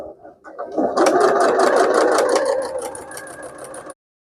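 A sewing machine stitches down rows on a quilted makeup bag, running in a steady rapid mechanical whir with clicking needle strokes for about three seconds before stopping abruptly.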